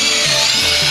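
Power drill boring holes into wood to build a bee house, a loud steady whine that dips and shifts in pitch as the bit bites and clears waste, close and alone.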